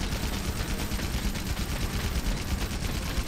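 Dense, continuous rapid gunfire from the video game Monster Hunter World crackles without pause, a loud barrage of overlapping shots filling the whole stretch.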